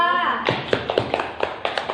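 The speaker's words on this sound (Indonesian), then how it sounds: "Tepuk tangan dulu untuk kelompok 2." Children in a classroom clap their hands for a group in a short run of quick, fairly near claps, following a brief spoken voice at the start.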